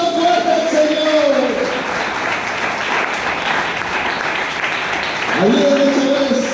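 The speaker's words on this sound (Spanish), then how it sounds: "Dale un aplauso fuerte al Señor." A church congregation gives loud applause, a steady crowd of clapping that runs throughout while a voice speaks over it near the start and again at the end.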